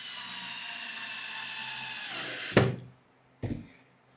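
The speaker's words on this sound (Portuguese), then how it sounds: "Vou fazer o travamento com o parafuso A." A power drill whines steadily as it drives screw A into a Bellagio table part, then stops with a sharp knock and a second thud, close and moderately loud.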